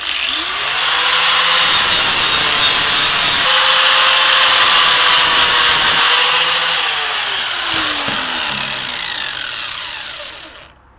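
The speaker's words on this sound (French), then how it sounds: "je vais dégrossir encore une fois au disque à lamelle" A flap disc grinder roughs out a steel knife blade in a home workshop, its motor whining loud and steady while the abrasive rasps against the metal, the pitch sagging and rising as pressure changes before it spins down at the end.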